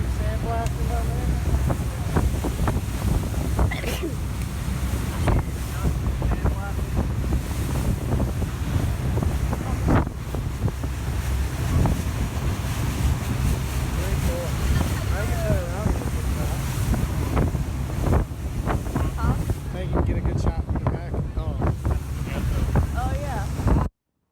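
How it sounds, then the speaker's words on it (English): Strong, gusty wind roars steadily across a boat on open water, buffeting the microphone with a loud, continuous rush over the wash of surf, while faint voices sit underneath. "here comes the wind again"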